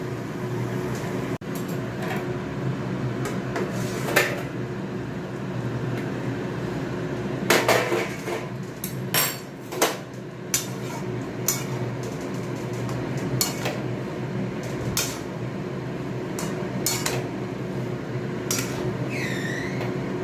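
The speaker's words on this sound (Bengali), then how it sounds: "চাপা দিয়ে দিলাম দিয়ে কাঁচা লঙ্কাটা বেটে নিই" Green chilies being ground into paste on a stone, a steady low scraping drone with scattered sharp clacks and knocks of stone and utensils, close and moderately loud, with no speech.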